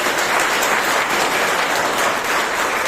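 Steady, dense applause from an audience sending off students at a summer science, engineering and technology camp certificate ceremony, continuous and fairly loud throughout with no pauses.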